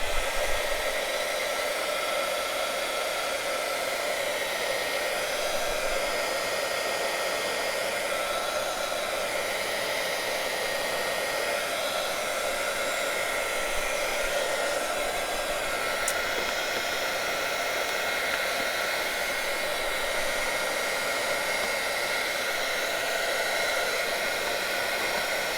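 A heat tool blows hot air onto a plastic sheet in a craft setting. A steady, loud whooshing hiss carries unbroken throughout with no talk.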